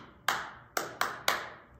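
Four crisp hand claps, one, then a quick run of three, ringing briefly in a quiet room during a children's storytime session.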